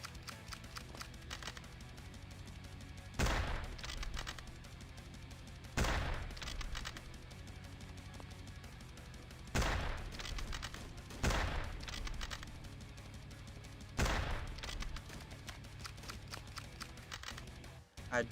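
Gunfire in the Slendytubbies 3 horror game: sharp shots ring out roughly every few seconds over a steady background ambience, each one loud and abrupt, with no voices.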